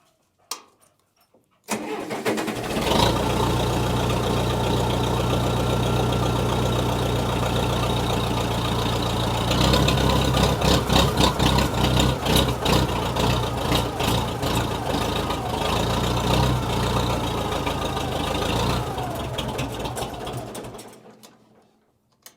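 A Case 430 diesel tractor engine cranks briefly, fires and settles into a loud, steady idle that runs close-up for most of the stretch, with some unevenness as it hunts for fuel after the filters were pulled, then cuts off near the end.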